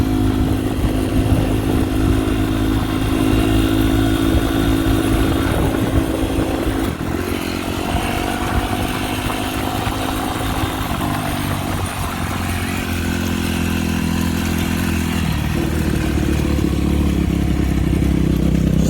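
A Yamaha YZ250F dirt bike, freshly fitted with new radiator hoses, runs steadily for the whole stretch, its loud engine drone shifting in pitch with throttle changes as it rides nearby, with no talking.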